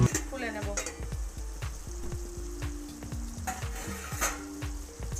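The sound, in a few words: chicken sizzling and being stirred in a pan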